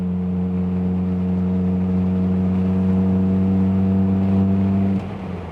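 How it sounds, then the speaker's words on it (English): A Morgan 4/4 sports car's steady, buzzing exhaust drones at a constant pitch, close and fairly loud, then drops off abruptly near the end. "let's just listen to that plucky little exhaust note one more time"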